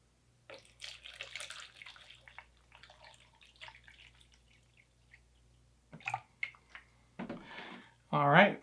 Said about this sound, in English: I've got to fill this with water here so that they don't dry out